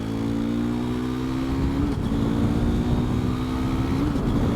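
A 2019 KTM RC 390 single-cylinder motorcycle engine drones loudly and steadily while riding, its tone rising and shifting through the revs with rushing wind, and no voices.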